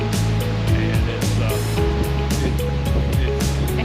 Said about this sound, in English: The wind is blowing really hard now.